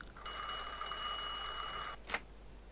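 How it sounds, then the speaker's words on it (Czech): An old-fashioned telephone bell rings in the Mafia 2 video game, a steady metallic trill lasting about two seconds, then a short click as the receiver is picked up. "zvoní nám tady telefon"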